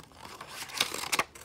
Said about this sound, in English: Now you're going to cut all around.